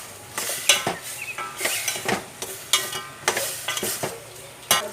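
Repeated scraping strokes of a utensil stirring breadfruit with salt in a pan, roughly one per second, over a soft background sizzle, close by with no talking.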